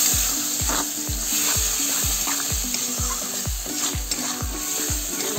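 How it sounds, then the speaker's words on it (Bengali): Ground spice paste with tomato sautéing in a pan for matar curry, a loud close sizzle punctuated by rhythmic, evenly spaced thuds and scrapes of a spatula stirring, about two per second. "মশলাটা একটু ভালো করে কষাই নেব"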